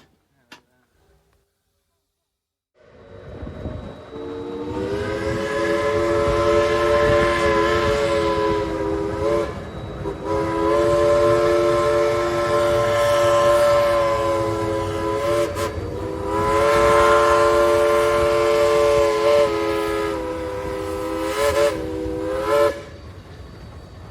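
A steam locomotive sounds its chime whistle in three long, loud blasts separated by short pauses at a Parade of Steam event, with rumbling train noise underneath.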